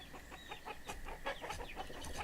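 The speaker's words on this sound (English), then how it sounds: "And hey, we're going to start getting chickens now." Chickens in the city-building game Banished cluck in a quick series of short, soft, repeated clucks at a modest level, with no talk over them.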